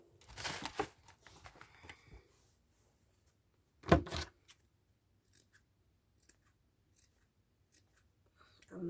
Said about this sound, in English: I'm snipping it a little bit so that it can lay flat and nicely.